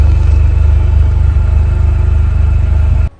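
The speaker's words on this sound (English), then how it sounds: "Let's listen to the exhaust sound to see what kind of a noise it does on" A Toyota Gazoo Racing GR car's exhaust idles with a steady, loud low rumble and even pulsing, then cuts off abruptly at the end.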